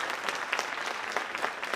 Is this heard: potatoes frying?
no